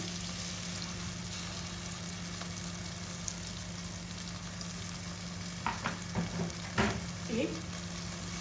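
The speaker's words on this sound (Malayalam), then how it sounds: "ഇതിനെ നമുക്കൊന്ന് വഴക്കിയെടുക്കാം" Cashew nut paste gravy, seasoned with salt, sizzles and fries steadily in an oily pan, with a few scraping stirs toward the end.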